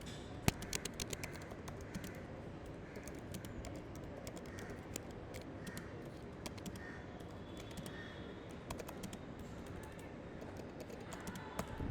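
Quiet, rapid clicking of keys being typed on a computer keyboard, continuous and fairly faint, with no talking.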